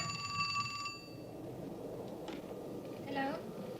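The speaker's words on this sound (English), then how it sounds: "Mary Meredith of Oklahoma City recreates the night she purportedly received a phone call from the dead." Telephone ringing in a quiet room for about a second, a steady electronic bell tone with harmonics, followed by faint room noise and a brief sharper chirp near the end.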